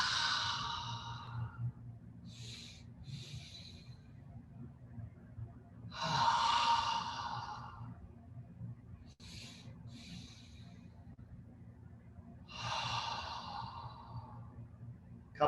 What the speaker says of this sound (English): 2 quick inhales, long, slow exhalation